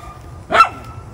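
One short, sharp dog bark, close and fairly loud, in an otherwise quiet setting.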